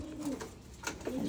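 Pigeons coo softly in a loft ahead of free-flight training, giving two low, throaty, rolling calls close by over a faint background hiss.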